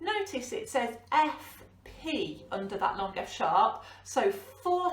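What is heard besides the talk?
No everyday noises stand out.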